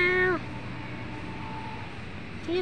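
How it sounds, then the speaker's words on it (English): Two short meows from a cat, one at the start and one at the end, separated by a quiet stretch of background hum. "Dia meow."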